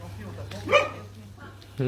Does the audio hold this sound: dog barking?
yes